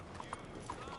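Horse hooves clip-clop at a quick, uneven pace in the game Red Dead Redemption 2, faint and thin over a soft background, with a few brief hoof knocks across about a second.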